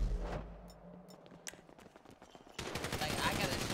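Automatic gunfire in the video game GTA, rapid bursts of shots that crackle in quick succession and swell into a dense, loud volley near the end, with faint voices underneath.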